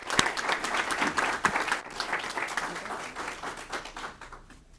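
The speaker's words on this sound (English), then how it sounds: "If we could give a round of applause for the Wright Center and the work that they're doing" An audience at a World Elder Abuse Awareness Day event claps in steady applause, many hands at once, fading out toward the end.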